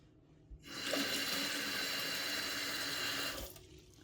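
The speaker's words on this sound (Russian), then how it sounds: "Добавляю холодной воды." Cold water pours steadily into a small container of shop-bought walnuts, a close, continuous splashing rush lasting about three seconds before stopping.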